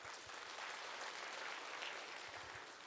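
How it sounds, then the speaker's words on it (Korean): Audience applause at a church climate forum, a faint, even wash of clapping that stays steady for a few seconds. "박수 한번 주시죠"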